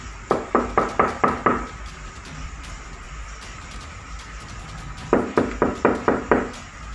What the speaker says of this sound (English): He has the door partially open to show that there's not anyone knocking on his door.